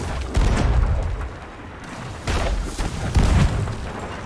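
Ship cannons firing in the pirate game Sea of Thieves, several deep heavy booms spaced a second or so apart, loud and close, with rumbling low-end between blasts.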